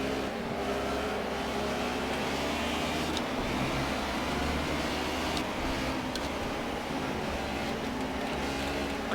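DTM race car engine in the Project CARS racing game, droning loudly and continuously at high revs throughout, with no voices.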